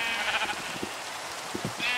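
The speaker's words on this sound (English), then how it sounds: "this is where I have all my sheep" Sheep bleat in Minecraft, a few short blocky cries spaced across the moment over a soft background patter like rain, no talking.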